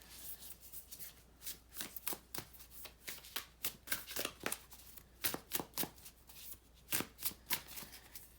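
Oracle cards being shuffled by hand in a series of crisp riffling bursts, irregular in rhythm, close but quiet, with no talking.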